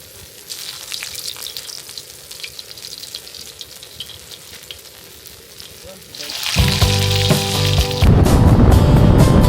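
Sausage and omelets frying on a camp stove outdoors at a campsite, with a soft sizzle at first that turns into a loud, steady, close crackle and hiss toward the end.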